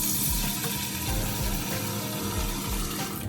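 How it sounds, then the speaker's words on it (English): Tap water runs steadily and loudly into a kitchen sink while a salmon is washed and its scales are cleaned off, a constant rushing splash with no talking. "where I'll be washing and cleaning off the back of it with all that scale"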